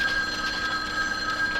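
A telephone rings continuously with a steady electronic tone, moderately loud, over a faint background hum and no talking.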